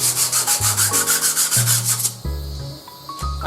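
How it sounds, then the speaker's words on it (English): Long strips of sandpaper rub back and forth over a wooden mallet in a steady rhythmic scrubbing, quick even strokes giving way to slower, heavier passes, close and loud with no talk. "Now I'm just gonna clean it up with some sandpaper."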